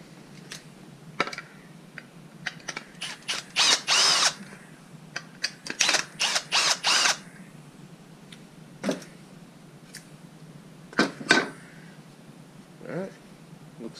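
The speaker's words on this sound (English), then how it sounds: "Let's unscrew it off the sled." A power drill unscrewing a wooden fretboard radius block from its sanding sled, heard in several short whirring bursts separated by pauses and small mechanical clicks, close and fairly loud.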